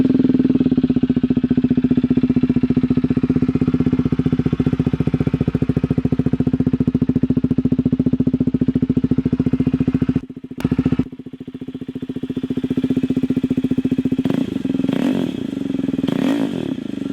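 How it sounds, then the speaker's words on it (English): A KTM 390 motorcycle with an aftermarket exhaust and its dB killer installed idles close by with a steady, throbbing burble. The engine cuts out briefly, then returns with a few sharp revs near the end. "we'll get this thing started up, and you can hear what it sounds like"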